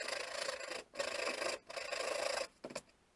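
Sandpaper rubs over the weathered wooden handles of an old two-man crosscut saw, a steady close rasping in three long strokes broken by short pauses, ending with a couple of quick scrapes.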